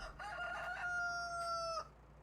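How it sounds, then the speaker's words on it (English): A single rooster crows once in Farming Simulator 19, a clear, drawn-out cock-a-doodle-doo lasting under two seconds, fairly close against quiet background. "There's our rooster."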